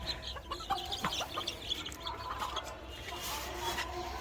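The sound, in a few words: Japanese bantam chickens clucking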